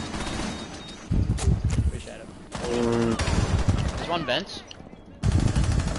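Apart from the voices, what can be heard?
gunfire in a video game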